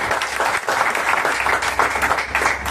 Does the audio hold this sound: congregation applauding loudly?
yes